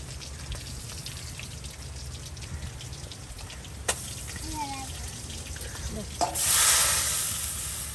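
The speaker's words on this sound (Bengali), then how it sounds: "ওইদিকে সেই মাছের তেলে ভাজা গরম তেলে আপনার এগুলি দিয়ে দেওয়া হবে" Spiced pangas fish fries in hot oil with a constant crackling sizzle, a couple of sharp clicks, and a sudden louder burst of spitting near the end; a faint voice murmurs underneath.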